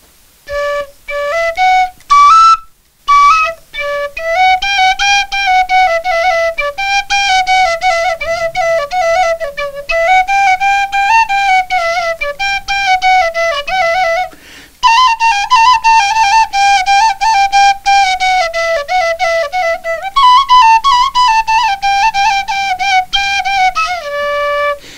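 A Moldovan fluier folk flute plays the tune Zâi Fluiere, a bright, breathy melody that runs steadily for the whole stretch with only brief pauses, close and loud, with no talking.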